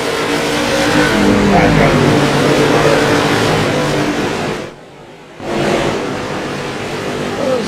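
Late model race cars roar around an oval track in a dense, loud pack, engines droning continuously, with a brief dip in the noise before the roar returns.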